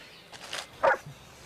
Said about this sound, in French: Ah, il est gentil, le chien.